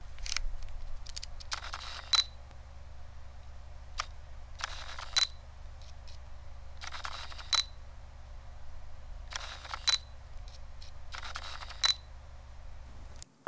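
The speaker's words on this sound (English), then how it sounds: "I wanna show focus speed and the sound of the focus motor" Several short bursts of whirring autofocus motor from a Fuji XF 56mm f/1.2 lens, close up, each roughly a second long and separated by quiet gaps, over a steady low hum.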